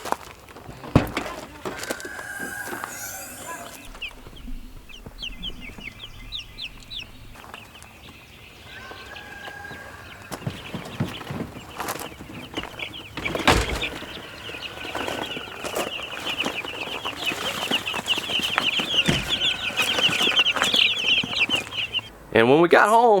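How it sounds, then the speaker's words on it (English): Young Rhode Island Red chicks peep in high, repeated chirps that become a dense chorus near the end, mixed with clucks, wing flaps, handling knocks and people talking nearby. "So I ended up getting some Rhode Island Red chicks too."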